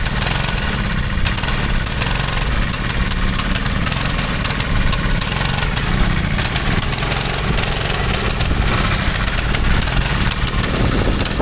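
A go-kart engine runs with a little throttle, a loud, continuous rough buzz with rattling vibration, steady throughout without clear revving peaks.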